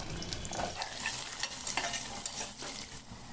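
Radish pieces frying over a low flame while being stirred in a pan, a continuous soft sizzle with scraping stir strokes close by and no voices.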